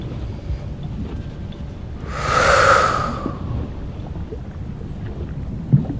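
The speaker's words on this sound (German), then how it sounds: "Dabei schnauft sie einmal fest durchs Maul aus." A dragon in a children's bedtime audio drama snorting hard through its mouth: one strong, breathy rushing exhale lasting about a second over a low rumbling volcanic bed.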